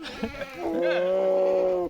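A billy goat lets out one long, loud, wavering bleat close by, just after release, following a couple of brief rustles and scuffs.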